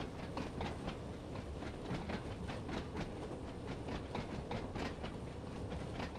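A former London Underground D-Stock train runs through tunnels on the Isle of Wight line in Train Sim World 2, giving a steady, close rumble with rhythmic clickety-clack wheel beats throughout and no talking.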